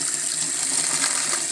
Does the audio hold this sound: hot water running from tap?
yes